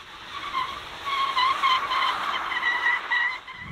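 A 2022 BMW i4 entry-level rear-wheel-drive electric car drifts, its tires letting out a sustained, wavering squeal that rises and falls over a few seconds with no engine roar beneath.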